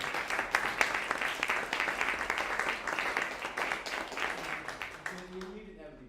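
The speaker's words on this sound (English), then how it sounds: "Let's give that a round of applause." Audience applause after a music scholars' masterclass performance at Rugby School, a dense, steady round of clapping from a room of people that fades out at the end, with a voice speaking under it.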